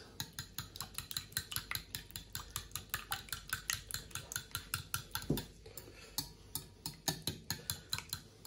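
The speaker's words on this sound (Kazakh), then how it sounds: "Тағы да жақсылап араластырып аламыз." Dough with melted butter gets stirred briskly in a bowl, a steady rhythm of quick clinks and scrapes about three per second, close and clear, with no voices.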